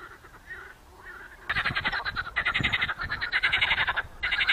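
A chorus of frogs croaking loudly in rapid, rattling pulses at small marshy pools in Yoshkar-Ola, starting faint and then swelling up close, several calling over one another.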